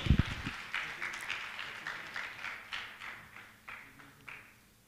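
Audience clapping at a Jain religious gathering, a burst of applause that quickly thins into scattered claps and fades over a few seconds.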